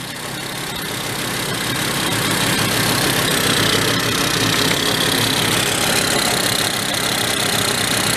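A 1970 Benelli mini bike engine runs at idle without its air cleaner fitted, giving a continuous, steady, close, noisy mechanical drone with no talking.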